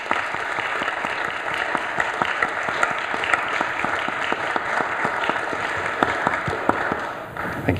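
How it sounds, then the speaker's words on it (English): An audience claps steadily through a Mother's Day tribute, sustained applause from many hands at an even, fairly loud level that fades slightly at the very end, with no voices over it. "let's just have a round of applause"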